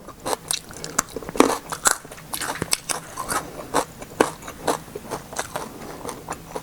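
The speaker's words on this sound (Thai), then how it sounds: "กรอบมากๆผักก็ สดผักก็กรอบค่ะ" Someone bites and chews crisp, fresh raw vegetables served with a Thai meal, giving close, loud, repeated crunches and crackles in a steady chewing rhythm with no talk.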